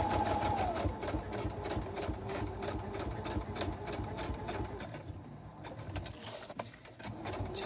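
A sewing machine runs a continuous stitch along a wire-bound junk journal, a steady rapid mechanical chatter with regular clicking pulses, close and unbroken, slowing briefly near the end.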